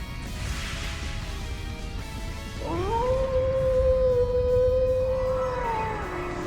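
A wolf howls in the Trails into Reverie video game, one long sustained howl that rises, holds a steady pitch and then bends, sounding over a dense rumbling background with no talking.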